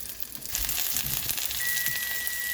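Lobster pieces sizzling steadily in a hot pan as they pre-cook for lobster mac and cheese, a close, bright, continuous crackle that swells slightly after a brief quieter start.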